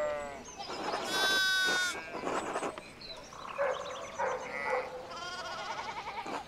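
Sheep in Pentiment bleat loudly and close by, several overlapping wavering cries in quick succession over a soft game backdrop.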